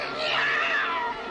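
A cartoon cat lets out one continuous, loud, strained caterwaul, a wailing yowl heard alone without any talk.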